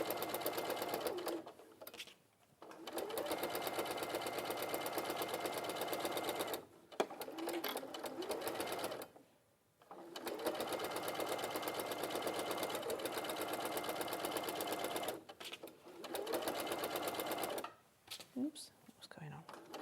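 Domestic sewing machine stitching a quarter-inch seam, its steady rapid whir running in long bursts that stop and restart several times, with brief pauses between runs and faint background talk.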